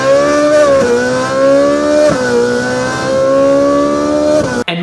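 Ferrari 458 Italia V8 on its stock exhaust with the valves open, revving hard and close through quick double-clutch upshifts, the pitch climbing, dropping briefly at each shift and climbing again, loud and without talk.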